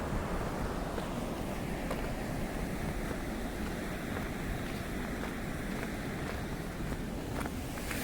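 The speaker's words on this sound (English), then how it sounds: "Hear the water running." Water running at the Niagara Parks Power Station walkway gives a steady, broad rush that holds without a break, with wind buffeting the microphone and faint footsteps on top.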